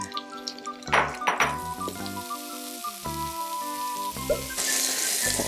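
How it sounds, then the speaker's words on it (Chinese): Shiitake mushrooms stir-fried in a pan: close sizzling with spatula knocks and scrapes, the frying hiss growing brighter and steadier toward the end. "我还是会先把我的好朋友我的香菇把它炒香"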